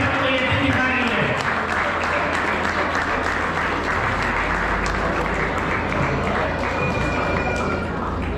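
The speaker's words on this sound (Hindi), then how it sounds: "इनके लिए भी जोरदार तालियां" Loud applause from the audience at a Maheshwari Samaj Deepavali community gathering in Ballari as a family is called onto the stage, sustained, dense clapping filling the hall, with faint voices and a low hum beneath it.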